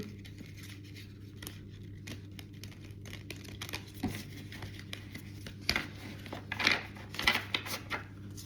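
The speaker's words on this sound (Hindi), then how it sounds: "Okay, one more shuffle." Tarot cards are shuffled, giving faint, soft riffling and clicking bursts that grow busier toward the end over a steady low background hum.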